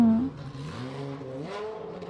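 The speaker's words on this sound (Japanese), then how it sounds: "あ、これアストンマーチンか。" An Aston Martin sports car at a classic car event rolls past with a smooth, steady engine hum that rises slightly in pitch, moderately loud and close, with no talk over it.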